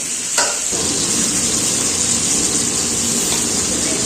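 Chicken pieces frying in hot oil in a kadai, a loud, continuous close-up sizzle with steady crackling and no talk.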